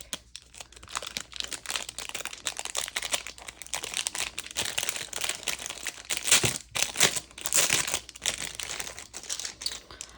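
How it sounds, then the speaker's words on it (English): Plastic bag holding Halloween embellishments being opened by hand, with steady close crinkling and rustling over about ten seconds that swells louder near the end, no talking. "So let's see what's in here without ripping the bag."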